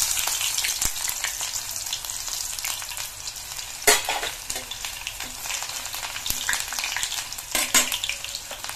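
Onions frying in hot oil with cumin seeds for mutton curry, a dense continuous sizzle with crackles up close and a few sharper stirring clicks and scrapes, no voices.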